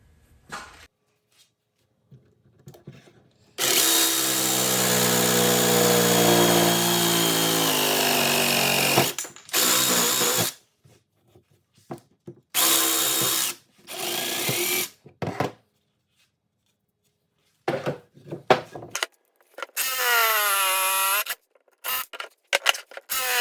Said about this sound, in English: now that we have these cut out, we can go ahead and clean them up with the jigsaw.